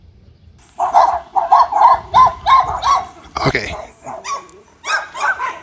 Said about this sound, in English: Barking in the night.